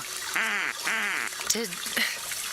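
A voice imitates a duck, giving two drawn-out nasal quacks followed by a few shorter quacking sounds, close and clear, in a Northeast Florida plumbing radio ad.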